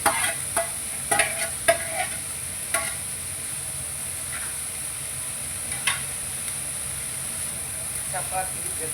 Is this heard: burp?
no